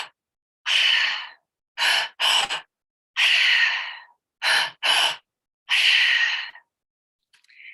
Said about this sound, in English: The next breath that we're going to go into after that is called a triactive breath.